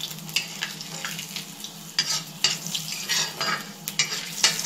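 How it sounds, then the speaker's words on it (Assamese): Fenugreek seeds fry in hot oil for matikaduri greens, with a steady sizzle broken by repeated scraping stirs of a utensil across the pan, close and clear with no talking. "মিঠি গুটিকেইটা যেতিয়া বাদামী কালাৰ হ'ব তেতিয়াই মই শাকখিনি ইয়াতে দি দিম।"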